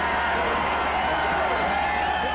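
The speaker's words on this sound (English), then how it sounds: "The crowd in a frenzy." Football stadium crowd roaring after an interception by Henry Jones in a Buffalo Bills game, a dense, sustained cheering wall of voices heard from a distance, with no break across the short stretch.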